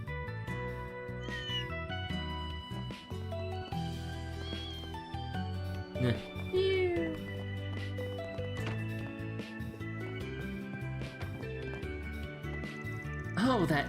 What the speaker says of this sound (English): Looks like the cats have mellowed out a bit.